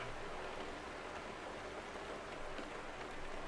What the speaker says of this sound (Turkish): Şu anda arkadaşlar yağmur yağıyor.